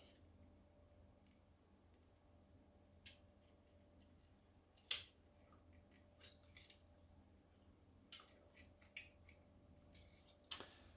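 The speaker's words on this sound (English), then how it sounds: "like this to actually connect the cable and cut the cable to the correct length" Network cable being cut to length with a crimping tool, a scattering of faint snips and sharp clicks at irregular intervals over a quiet room background, no talking.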